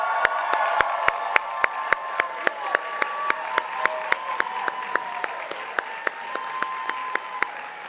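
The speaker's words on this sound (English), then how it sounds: "Let's give a big round of applause for all of our Audience Choice Award winners." An audience at an awards event for a charity challenge finals claps in sustained applause, a dense even patter with steady sharp beats running throughout, moderately loud and without talk.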